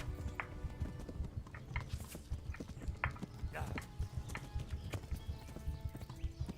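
Horse hooves clip-clop at a steady trot in the medieval game Kingdom Come: Deliverance, rhythmic and close, with an occasional snort or whinny and a player's voice faintly in the background.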